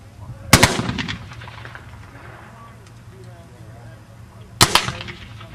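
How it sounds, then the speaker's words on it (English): Civil War infantry reenactors with muskets firing by file, two loud sharp volleys of crackling rifle shots a few seconds apart, each a quick ragged cluster of pops over outdoor background rumble. "you'll start to hear that rattle of musketry and the popcorn kind of sound that you'll hear."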